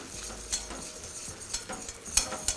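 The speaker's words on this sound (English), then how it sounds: "It's bubbling." Garlic sizzles in a hot pan with a steady crackling hiss, punctuated by a few clinks and scrapes of a utensil stirring.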